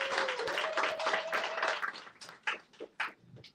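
A single person clapping at a film screening and discussion, several hand claps in quick succession that thin out into a few separate, sharper claps near the end, fairly close and moderately loud, with no voices.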